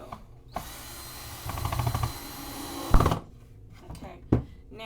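Power drill fitted with a cement bit cutting through the material of a homemade soap box, a close, steady grinding whine lasting a few seconds with rougher bursts partway through, then handling knocks as it stops.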